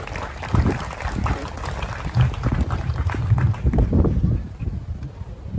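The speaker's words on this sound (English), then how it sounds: "Let's give everyone one more round of applause." An audience at a staff and faculty convocation luncheon at CSU Maritime Academy applauds, giving a moderate round of clapping with some rumbling wind-like noise on the microphone.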